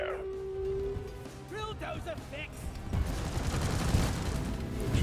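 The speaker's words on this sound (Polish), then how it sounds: "Uwaga, kontrolowany wybuch." A controlled explosion goes off in the co-op mining shooter Deep Rock Galactic, playing as the engineer class: after game noise and short tonal chirps, a loud, broad blast erupts midway and rumbles on with dense crackle until the end.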